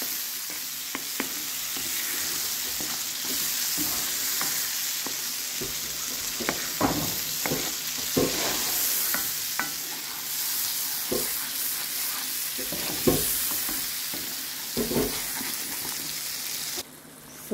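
Cajun sauce sizzles in a hot pan while being stirred. A constant crackling hiss runs under scattered scraping and stirring knocks, which come at irregular moments and are fairly close.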